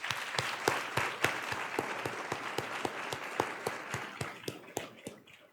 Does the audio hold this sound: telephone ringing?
no